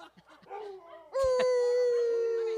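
Dogs howl in a long, sustained, rising wail along to a country song, loud and close, with brief yips and murmurs before the howl swells and holds.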